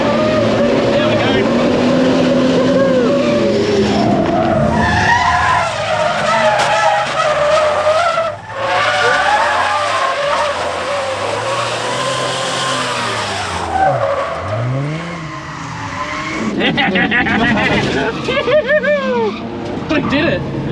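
A hotrod drift car slides and skids with tire smoke, its engine roaring loud and close through long sustained squeals and revs. People talk excitedly over the din.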